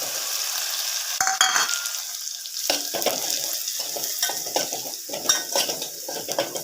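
Finely chopped garlic and coconut sizzle steadily in hot oil in a cooking pot, with a burst as they hit the oil and repeated scraping stirs clicking through the constant close frying hiss.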